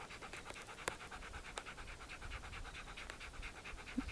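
A tired dog pants steadily and rhythmically close by on a mountain pass, quick regular breaths over soft outdoor ambience with a few small clicks.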